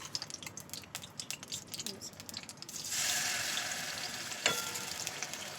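Onions and blended spices go into hot oil in a home kitchen. The first half has clicks and stirring, then a loud, steady sizzle of frying starts, with a sharp clatter near the end.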